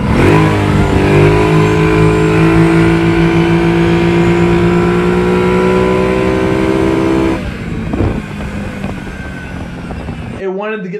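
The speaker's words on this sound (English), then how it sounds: "do a little pull in low gear to show you what I mean" A Brute Force ATV fitted with a stage 3 clutch pulls hard in low gear, its loud engine rising steadily in pitch for about seven seconds before easing off, with rougher, quieter running afterward.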